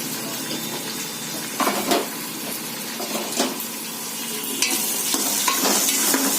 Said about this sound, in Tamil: இந்த புதினா போட்டு நல்லா வதக்கணும்.